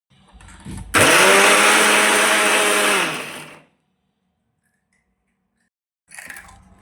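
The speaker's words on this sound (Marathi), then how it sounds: "आता थंड करायचं आणि मिक्सरला वाटून घ्यायचं" A kitchen mixer grinder whirs loudly for about two and a half seconds, grinding oil-roasted ingredients into a thick paste for a Bhogi vegetable dish, then stops abruptly; a short burst of noise returns near the end.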